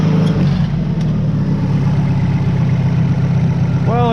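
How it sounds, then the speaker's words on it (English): A 484 tractor engine runs steadily close by, with a loud low rumble and even idle-like throb that continues unbroken, plus a brief rising whine near the end. "we were going to do a little test to see how fast this engine does run"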